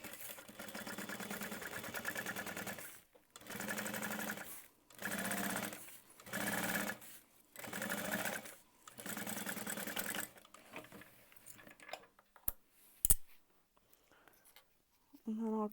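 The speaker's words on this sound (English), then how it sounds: "And then we'll just flatten that, top stitch it down." A sewing machine top stitches a bag lining in several steady whirring runs separated by short pauses, followed by quieter handling clicks.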